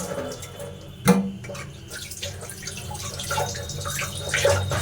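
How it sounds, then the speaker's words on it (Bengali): Chicken legs washed in hot water, heard as close splashing and dripping water with a sharp knock near the start and continuous watery handling after. "এখন এই 4টে ঠ্যাংকে যে গরম জল চাপিয়েছি, গরম জলে ভালো করে পরিষ্কার করে ধুয়ে"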